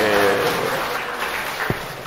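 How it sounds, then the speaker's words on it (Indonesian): A church congregation claps after a magic trick at a Sunday service, a steady wash of applause from many hands in a reverberant room that slowly fades. "Mau tepuk tangan boleh."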